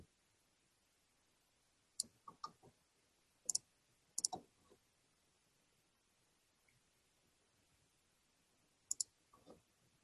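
Computer mouse clicked and dragged while working in Excel, a handful of sharp, quiet clicks in small clusters separated by silence, close to the mic.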